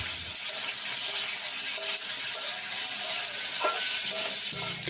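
Whole five-spice seeds, bay leaf and a dried red chilli frying in a pan before boiled squash goes in, giving a constant bright sizzle throughout with a faint scrape or two near the end and no talking.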